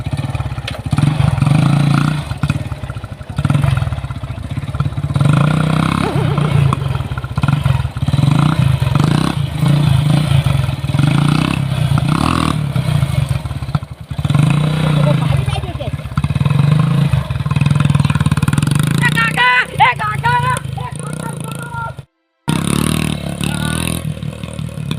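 A motorcycle engine runs steadily and loudly the whole time in a village comedy scene, with a brief cut near the end, and voices talk over it throughout.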